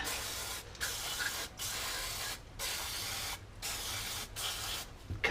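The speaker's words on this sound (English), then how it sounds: "what I'll do is I'll switch to the carburetor cleaner" Carburetor cleaner sprayed onto a 1991 Toyota Celica GT throttle body in a series of loud, close hissing bursts of about a second each, separated by brief pauses.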